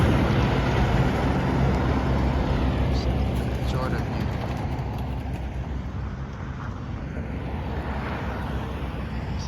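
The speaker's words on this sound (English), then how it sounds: "I'm gonna pause for a second and let traffic pass" Road traffic rolls past on a street beside a parked Mercedes-Benz W203, a steady broadband rumble of passing vehicles that swells near the start and slowly fades, with no talking.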